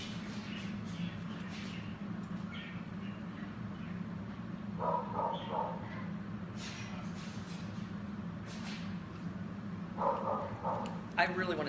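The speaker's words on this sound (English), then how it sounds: "I really want to see what Snow's barking at" A pet dog named Snow barks in short bursts, partly in the distance, over a steady background hum, with a couple of clusters of yips.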